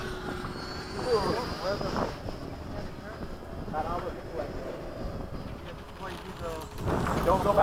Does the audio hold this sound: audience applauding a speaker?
no